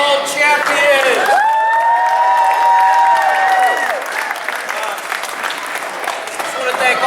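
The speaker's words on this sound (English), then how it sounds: "One more time, one loud clap for your Super Bowl champions." Loud crowd applause with whoops and cheers fills an awards-night celebration for a youth San Francisco Warriors football team, dense clapping throughout, with shouting voices riding over it early on before settling into steady clapping.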